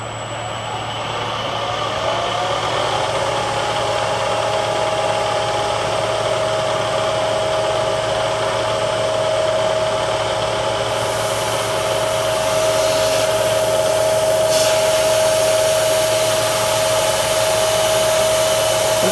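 A CNC-converted 9x20 lathe runs a three-flute half-inch end mill to square the end of a part. It gives a loud, steady machine whir with a constant tonal whine that holds throughout, and no one speaks.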